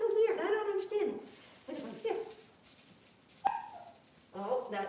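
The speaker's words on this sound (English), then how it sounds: "that's my puppy wants to play" A puppy, a doodle, whimpers and yips in short bursts, wanting to play, while a person talks nearby at close range.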